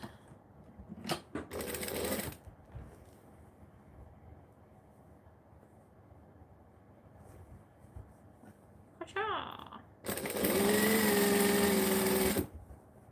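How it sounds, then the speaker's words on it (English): Sewing machine stitching folded fabric layers together, with two short bursts of rapid, buzzing stitching separated by quieter handling noise and a brief spoken remark. "Then you could stitch this layer together like this."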